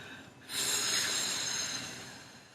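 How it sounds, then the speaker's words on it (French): A single forceful exhale through the mouth during a yoga breathing exercise, a breathy rush of air that starts suddenly, holds for about a second and then fades out, close and fairly soft. "on va expirer par la bouche en essayant de gonfler ce ballon imaginaire"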